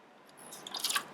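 Liquid P runs into a styrofoam cup, a faint, short trickle and dribble that grows slightly louder toward the end of a quiet moment.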